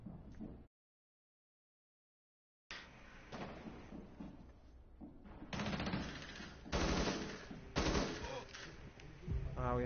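Gunfire in Rainbow Six Siege: a short burst, a two-second silent gap, then repeated close, loud automatic bursts and single shots, with rapid rattling volleys toward the end.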